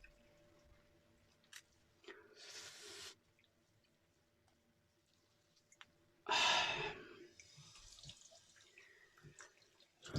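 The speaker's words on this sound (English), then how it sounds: "it provides a very nice face wash." Water splashes and sloshes as a face is rinsed during a shave, two short bursts of wet splashing with quiet dripping between them and no talking.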